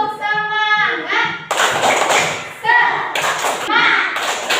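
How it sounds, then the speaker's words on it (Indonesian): A class of fourth-grade schoolchildren performs a rhythmic clapping cheer, bursts of group hand claps mixed with children's chanting and an adult voice, close and lively. "Ya, kita tepuk semangat, ya."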